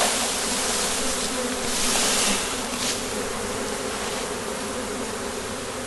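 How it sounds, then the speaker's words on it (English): A dense swarm of honeybees, shaken out near a hive entrance, buzzes continuously and loudly, a steady droning hum that swells briefly midway, with no talking. "hopefully some of these bees in here, when I shake them on it, will go"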